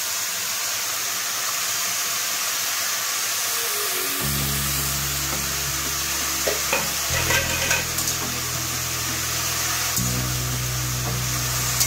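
Roasted lentils and nuts go into a frying pan for a Bengali festival dish, then a steady hiss of frying with stirring scrapes and a low hum underneath.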